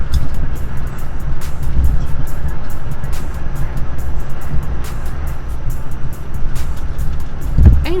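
Big semi truck cab interior while driving, with a steady loud low engine and road rumble throughout and a brief louder thump near the end.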